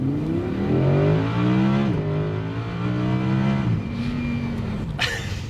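A 2022 Audi R8 Spyder V10 Performance revs hard and pulls through rising gears, its loud close engine note climbing in pitch with a brief dip at each shift, then settling near the end.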